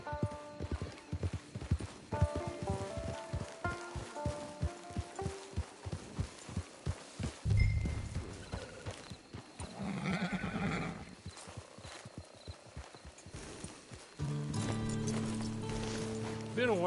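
Horse hooves clip-clop in a steady rhythm, followed by a horse neighing, then a chord of music, in Red Dead Redemption 2 Online.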